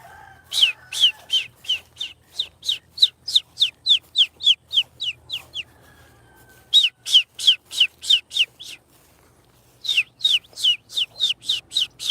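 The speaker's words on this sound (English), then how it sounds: "Now, where are these chickens at?" Chickens call in rapid bursts of short, sharp repeated notes, loud and close, in three runs separated by brief pauses.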